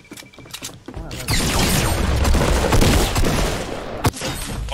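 Dense gunfire bursts through a Fortnite match, a loud sustained fusillade of overlapping shots with sharp cracks near the end and a voice talking faintly beneath.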